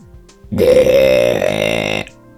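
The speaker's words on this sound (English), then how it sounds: "And now I'm going to burp." A long, loud, close burp from a man after drinking a glass of juice, roughly one and a half seconds of deep rattling voice that starts abruptly and cuts off cleanly.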